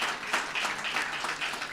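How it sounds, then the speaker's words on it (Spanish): A short burst of audience applause, a dense wash of many hands clapping at steady loudness. "Un aplauso para Amisadai."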